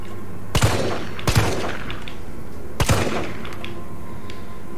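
Three sharp gunshots ring out in Resident Evil 3 demo gameplay, spaced unevenly over a few seconds, each a loud crack with a short echoing tail over a steady low background hum.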